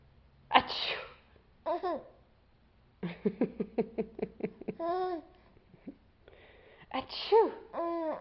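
A young child sneezes amid high-pitched squeals, screams and babbling, with several sharp bursts spread across the stretch and a loud sneeze near the start and another near the end, close to the microphone.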